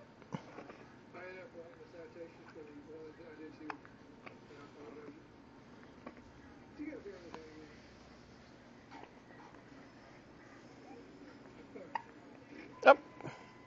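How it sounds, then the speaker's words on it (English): A child hiccups repeatedly with small, sharp, irregularly spaced catches of breath, close and fairly quiet, with soft voices and vocal sounds in between and one louder hiccup near the end. "Oh, the hiccups are bad."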